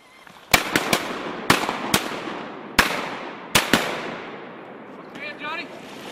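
Shotgun blasts while duck hunting: a rapid volley of about six sharp, loud reports in uneven bursts, each trailing off in open-air echo, followed by a brief flurry of duck or bird calls.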